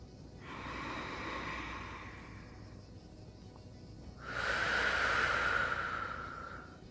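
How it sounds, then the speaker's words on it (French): Slow, deep breathing during an anti-stress breathing exercise: one long inhale drawn in through the nose, then a louder, breathy exhale pushed out through the mouth, close and alone. "inspire par le nez, expire par la bouche."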